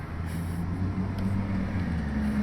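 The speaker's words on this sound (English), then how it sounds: "we're outside, by the way, so you're going to hear some horns and traffic" Street traffic passes outside a gym, a steady low road rumble with engine drone and a faint higher tone that could be a distant horn, continuous and unbroken, with no one speaking.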